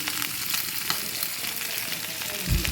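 Onion, chopped garlic and five or six slit green chilies sizzle with already-fried chicken in a pan, a steady close hiss and crackle throughout with a louder burst near the end.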